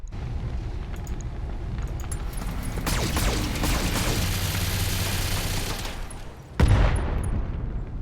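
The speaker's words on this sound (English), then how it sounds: "Another LRM turret, no doubt" Long-range missile turret firing in the mech combat game Battletech, a dense rumbling volley of rocket launches and blasts lasting several seconds, then a sharp loud impact boom near the end.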